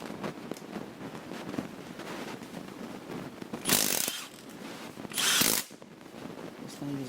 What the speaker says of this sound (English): usually it's pretty hard to get head bolts off, but this thing's not even struggling with it.